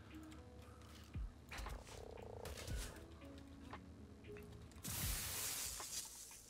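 A frog croaks in ARK: Survival Of The Fittest amid a busy game soundscape, with intermittent low thuds and a burst of bright noise near the end.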